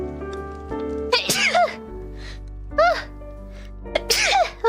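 A female Hololive VTuber sneezes sharply several times in quick, separate bursts, close and loud, with a steady background tone between them.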